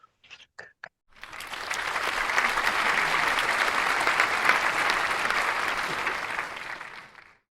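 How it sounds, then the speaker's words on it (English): After a few brief knocks, a crowd breaks into sustained clapping that holds steady for several seconds and then fades away. "can we just unmute if we would and give a round of applause?"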